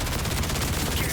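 Bod Melter gun in shotgun mode in Borderlands 4, a dense unbroken roar of rapid gunfire blasts, loud and continuous throughout the short burst.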